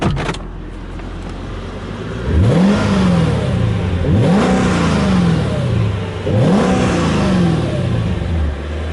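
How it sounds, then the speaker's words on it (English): A Mercedes E55 AMG V8 engine revs three times in a row, each rise and fall of pitch clear and loud, with a steady idle rumbling between the revs. "give it a couple of revs so you could hear"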